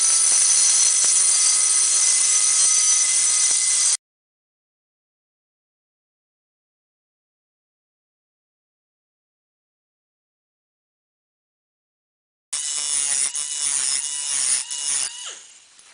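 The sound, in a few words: pneumatic cutter cutting sheet metal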